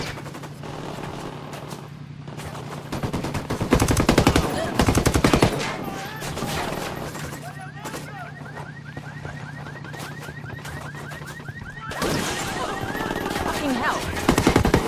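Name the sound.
gunfire in the video game Ghost Recon: Wildlands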